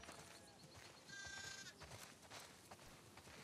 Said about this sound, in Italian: Ascoltate, pecore, la cena vi aspetta nel fienile, quindi forza!